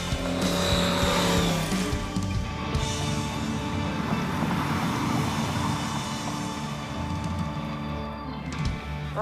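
A blown Ford Thunderbird drives in third gear on a cold winter road, its supercharged engine giving a loud, continuous roar with a steady rumble and a shift in pitch near the start.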